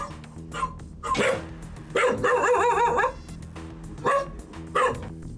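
A frightened dog barks in several loud, deep bursts with whining, rising yelps between them, heard close by with some talking in the room.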